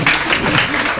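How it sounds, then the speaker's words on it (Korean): An audience at an exam-results briefing session claps loudly together, a short dense burst of applause up close. "다시 한번 큰 박수."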